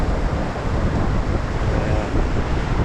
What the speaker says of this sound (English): The wind's nowhere near as strong.